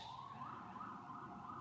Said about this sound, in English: There's ambulances. I'm in New York.